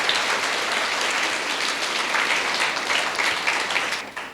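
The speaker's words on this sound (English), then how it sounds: "a big round of applause for asking this question." An audience at a motivational speaking event applauds in a sustained, fairly loud burst of many hands clapping that tapers off at the end.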